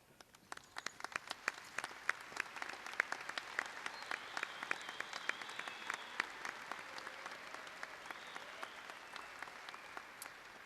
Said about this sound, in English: Will the students involved in these programs and any other clubs at Jefferson please stand for our applause?